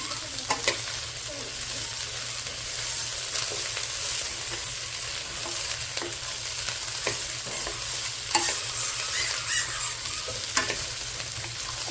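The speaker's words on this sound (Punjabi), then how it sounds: "ਕਿਲੋ ਭਿੰਡੀ ਆਪਣੀ ਮੈਨੂੰ ਲੱਗਦਾ ਠੀਕ ਹੈ ਜੀ ਸਪੈਚਲਾ ਦੀ ਮਦਦ ਦੇ ਨਾਲ ਇਹਨੂੰ ਲਾ ਲਾਂਗੇ ਆਪਾਂ" Okra fries in a pan, a steady close sizzle throughout while a spatula scrapes and stirs it with scattered clinks and scrapes.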